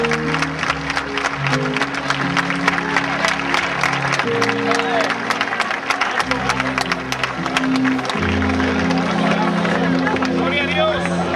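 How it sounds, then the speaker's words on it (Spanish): A church congregation applauds during an energetic service, with sustained dense clapping and crowd noise under loud amplified music or organ chords and some talk, full and close for the whole stretch. "Vamos a dar un aplauso a Dios."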